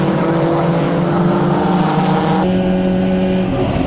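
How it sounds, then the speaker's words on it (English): BMW Compact Cup race cars at Snetterton in 2012 roar loudly in a continuous engine drone, the tone shifting abruptly partway through as the pack moves past. "They've got another queue of cars heading through Murray's there."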